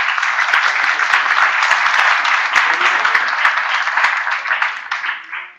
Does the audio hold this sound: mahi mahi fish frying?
no